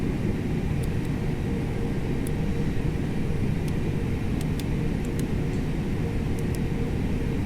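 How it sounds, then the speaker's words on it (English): An Airbus airliner taking off in a flight simulator gives a steady, loud broadband engine roar and rumble that holds evenly throughout, with faint clicks and ticks above it and no talk. "Let's go ahead and take off."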